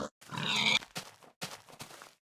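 Pigs grunt in a few short, rough bursts with brief gaps, close and fairly clear with no talk over them.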